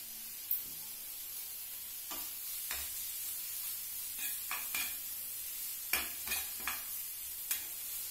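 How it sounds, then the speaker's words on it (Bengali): Chopped onion, garlic and ginger frying in oil for a pointed gourd mash, with a continuous close sizzle broken by several sharp scrapes and knocks of a spatula stirring against the pan. "পেঁয়াজটা একটু লাল হয়েছে আর রসুনটাও একটু নরম হয়ে গেছে।"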